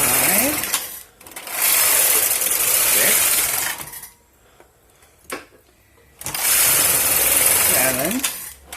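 A knitting machine carriage is pushed across a row in two loud, rasping sweeps of about three seconds each, separated by a quieter pause with faint clicks. The sound is close and mechanical, with no talking over it.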